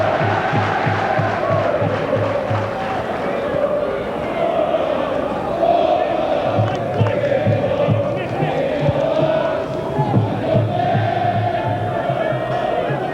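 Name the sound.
home football crowd cheering at Yeovil Town v Liverpool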